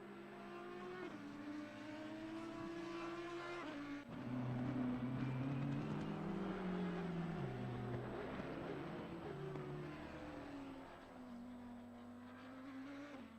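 An Audi race car engine in an online racing game at Misano drones and shifts pitch steadily, rising and falling as it revs, with a game-like smoothness and no voices.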